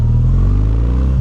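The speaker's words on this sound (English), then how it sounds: "The engine's got a nice thump to it." A Kawasaki W800 parallel twin motorcycle engine idles with its factory exhaust, giving a steady, throaty low thump that stays loud and close throughout without any break.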